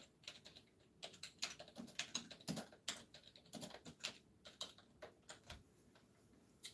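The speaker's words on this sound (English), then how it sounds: "I typed too quick for my own good" Rapid, uneven keystrokes on a computer keyboard at a desk, clicking in quick bursts close to the mic with short pauses between runs.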